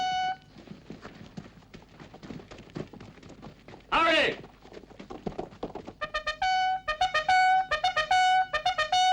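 In a Western setting, horses clip-clop with rapid, irregular hoofbeats beneath shouting voices, mixed with a whinny and a burst of music-like tones near the end.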